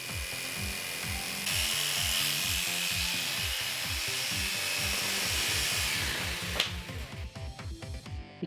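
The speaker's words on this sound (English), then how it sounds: "A little bit of vibration here gives you a good illustration of what this saw feels like to run" An electric upholstery saw that runs rougher than most cuts through latex foam, giving a close, steady high buzzing whine with a fast, regular throbbing pulse. A sharp knock comes near the end before the motor sputters unevenly; no one speaks.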